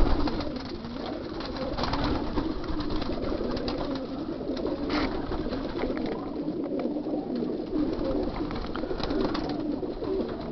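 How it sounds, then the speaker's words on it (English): Racing pigeons coo continuously inside a one-loft aviary holding yearling birds, several soft, rolling calls overlapping at close range over a steady low hum, with no talk. "Pigeons are very happy and content"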